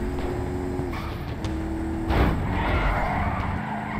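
Car driving and skidding in GTA V, a steady engine drone with a burst of tire noise partway through, close and fairly loud with no talking.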